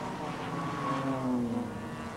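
Group E production racing cars, an Alfa Romeo and a Mitsubishi Starion, both front-engined and rear-wheel drive, run at Adelaide International Raceway. Their engines give a steady, fairly loud drone with a rising and falling whine in the middle.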